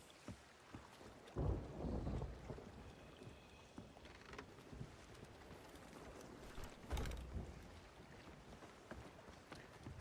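Sailing ship moving over open sea in the Sea of Thieves game, with a quiet wash of water and wind, a couple of louder surges rising and falling, and no talk.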